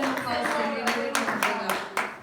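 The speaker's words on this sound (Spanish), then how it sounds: "Denle un aplauso al Señor Aleluya." A church congregation claps in praise to the Lord, a few loud bursts of clapping over a preacher's continuing voice and the sound of the hall.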